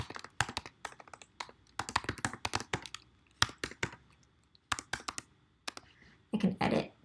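A computer keyboard is typed on in irregular bursts while a slide is being edited, close crisp key taps and clicks, with a short rustle at the end.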